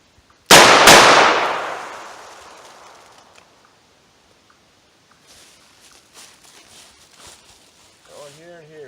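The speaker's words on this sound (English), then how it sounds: "I'm going to pull it up, fire a couple shots" A revolver fires two sharp, loud shots in quick succession at a 5-yard range, the bangs ringing out and fading over a couple of seconds before faint rustling and handling noises follow.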